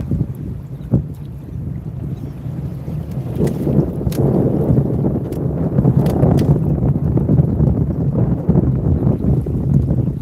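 Steady wind buffets the microphone on open water while fishing for speckled trout from a boat, a loud continuous rumble with occasional gusty swells and faint knocks throughout.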